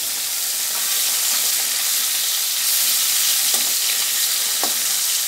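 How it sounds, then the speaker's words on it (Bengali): Small puti fish frying a few at a time in hot oil, a loud continuous sizzle with a few faint clinks of a spatula, no speech. "এবার মাছগুলো আমি অল্প অল্প করে দিয়ে ভেজে নেব,"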